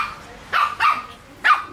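A puppy gives three short, sharp barks with quieter gaps between them, close to the microphone.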